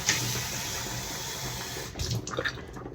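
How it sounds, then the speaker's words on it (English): Water poured into a cooking pot of okra white vegetable soup with crayfish, a steady splashing rush that runs throughout and grows briefly choppier near the end. "So I'm just going to add a little, some water"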